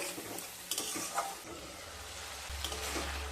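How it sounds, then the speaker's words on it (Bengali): Spice masala being sautéed and stirred on low heat, a soft continuous sizzle with a few scraping stirs of a spoon in the pan, close and without talk. "লো স্টিমে মশলাটাকে খুব ভালোভাবে কষিয়ে নিতে হবে"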